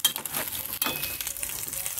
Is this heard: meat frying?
yes